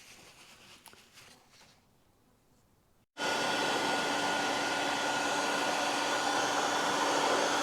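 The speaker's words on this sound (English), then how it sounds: "I'm getting ready to heat these up with my heat gun" A heat gun runs steadily and loudly while bearings are warmed for a 1980 Suzuki RM 400 engine build, starting abruptly with a constant blowing roar after a few seconds of quieter room noise.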